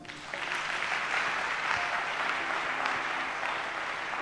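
A church congregation applauding and cheering for Jesus, a dense sustained wash of clapping from many people at moderate loudness, lasting the whole stretch.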